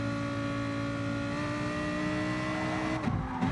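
Race car engine in a racing video game, a steady loud droning whine held throughout that shifts and wavers near the end as it accelerates.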